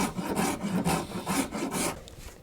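An Iwasaki half-round file rasps across the wooden body of an electric guitar while a bevel is flattened: rhythmic back-and-forth strokes, about six close, loud passes in a steady cadence, no talking.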